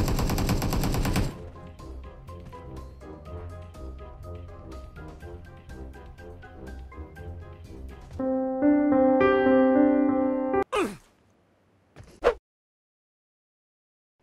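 Gunfire in the video game PUBG: a dense rapid burst at the start, then game music and chiming tones take over, ending with a couple of sharp isolated shots and a fade to silence.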